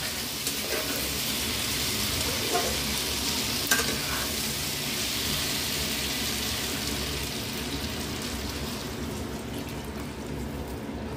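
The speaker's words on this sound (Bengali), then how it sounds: "এইবারে আমি জল দিয়ে দেব।" Water goes into a pan of fully cooked spice paste for a cauliflower murighonto, bringing on a loud, steady hiss and bubbling sizzle that holds for about eleven seconds, with a faint clink or two and no speech.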